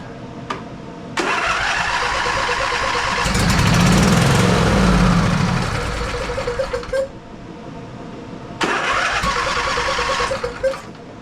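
An Ariens riding mower with a 20 hp Briggs V-twin engine cranks in several bursts, each a loud whirring grind. It catches briefly with a louder rumble, stops, then cranks again, close by and with no talk.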